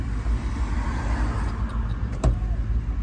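A car cruises along the road with a steady low engine rumble and tyre roar from inside the cabin, plus a brief click near the end; no talking.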